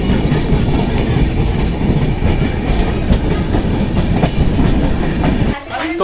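Loud, close rumble of an Indian passenger train on the Howrah to Jammu Tawi route near Pathankot, wheels clattering rhythmically over rail joints from inside the coach, with a brief dip near the end.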